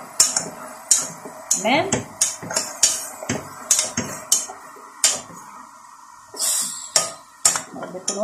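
A spoon stirs meat being boiled in a metal pot, knocking and scraping against the sides in repeated close clanks, with a brief spoken word and a cough-like sound in between.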